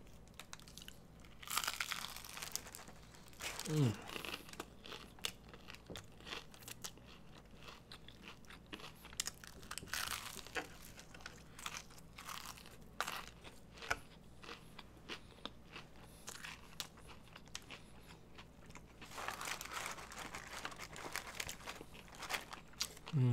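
Loud, crisp crunching bites and chewing of a fried Popeyes chicken wing close up, in irregular bursts with quiet pauses between them, no talking.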